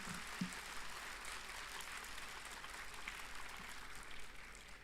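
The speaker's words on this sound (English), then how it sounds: "Can I have a round of applause for each and everyone who's out on stage here?" Large audience applauding performers on stage at a university student induction program, an even wash of many hands clapping that holds steady at moderate distance without breaks.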